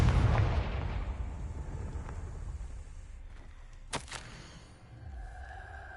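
In the video game Hogwarts Legacy, the Confringo fire spell sets off a booming explosion that fades into a long, low rumble and then settles into quiet ambience.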